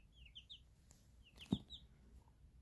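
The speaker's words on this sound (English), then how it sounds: "these guys are all chickens" Young chickens, including an onagadori and a silkie, give soft, faint high peeps and chirps scattered across a quiet room, with one brief low thump in the middle.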